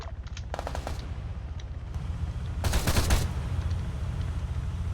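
In a military video game, gunfire crackles in several rapid bursts: short volleys early, then a louder, denser burst near the middle over a constant low rumble.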